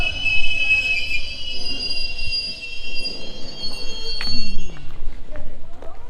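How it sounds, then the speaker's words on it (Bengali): A train pulls into Chhatna station with loud, sustained high-pitched wheel squeal and rumbling rail noise, followed by clanks and a falling squeal as it slows. "আমাদের ট্রেন ছাতনা স্টেশনে ঢুকছে"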